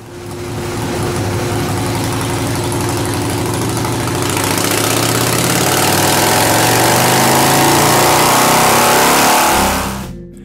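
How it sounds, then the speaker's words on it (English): A motorcycle engine fitted with an S&S Super E carburetor makes a full pull on a dyno, its loud, steady roar climbing in pitch as it revs up across the run before cutting off abruptly at the end. "Another pull on the dyno shows us that we're pretty well dialed in."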